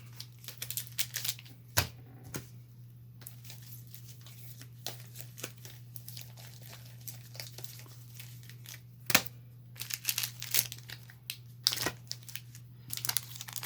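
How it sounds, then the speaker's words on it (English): Crinkly plastic rustling and crunching in irregular bursts, close up, as Magic: The Gathering Unstable card packs are shuffled together, over a steady low hum. "Shuffling the packs."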